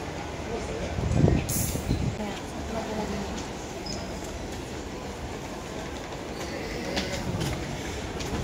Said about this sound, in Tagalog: May 4 hours train ride muna kami mula sa hometown namin na Parma hanggang sa province